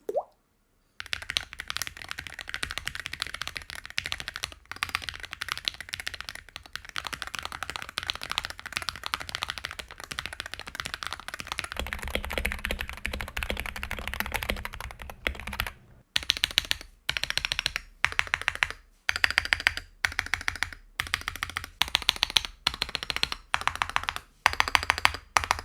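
Typing on a Wooting 60HE V2 keyboard gives fast, dense runs of crisp clacks and taps, close and alone, broken by short pauses and then quicker bursts toward the end.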